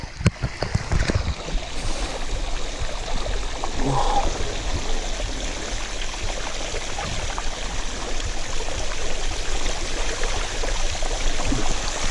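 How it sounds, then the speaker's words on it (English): A bike splashes through a shallow river on a woodland ride, with a steady broadband wash of churning, trickling water running continuously and fairly close, plus a few sharp knocks near the start. "I'm just riding through a river at the minute."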